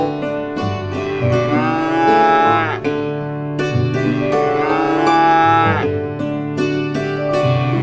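A cow moos in long, drawn-out calls, loud and close, repeating several times in a row with barely a pause between them.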